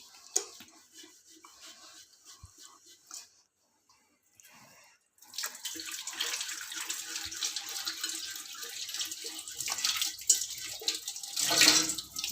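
Running tap water splashing over something being washed by hand at a sink, starting soft and broken, then becoming a loud steady gush with louder splashes near the end, close up.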